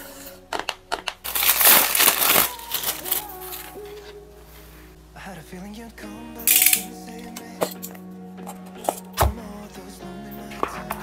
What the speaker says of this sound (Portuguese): Desembalar isso aqui.